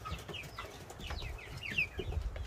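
Chickens in a farm coop give faint, scattered clucks and soft chirps over a steady low rumble of background noise, with no clear talk.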